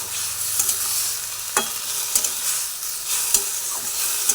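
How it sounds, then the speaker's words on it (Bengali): A drumstick-flower curry is stirred in a pan after a splash of water, with a steady sizzle and periodic scraping strokes of the spoon recurring throughout, close and moderately loud with no talking. "অল্প জল দিয়ে দিলাম দিয়ে আবার একটু ভালোভাবে নাড়াচাড়া করে নিচ্ছি"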